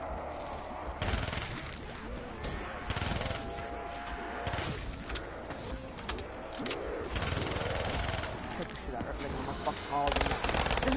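Burst pistol fire in Call of Duty 3 with the Nightmare mod, quick repeated bursts of shots over constant game noise and distant gunfire, steady and fairly loud throughout, with a voice talking at times.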